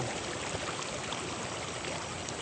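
Steady rushing water flows continuously through an irrigation channel from an overflowing fishpond, a broad even wash of sound, close and constant with no voices.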